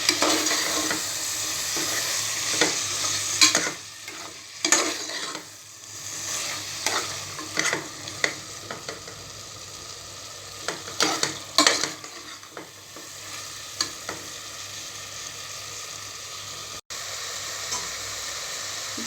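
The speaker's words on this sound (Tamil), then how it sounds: "இப்போ இது கூட நான் தயிர் ஆட் பண்ணிக்கிறேன். இதையும் நல்லா மிக்ஸ் பண்ணிக்கலாம்." Chana masala with added curd fries and sizzles in a pan while a spoon stirs it in steady scraping strokes, close and fairly loud, with no talking.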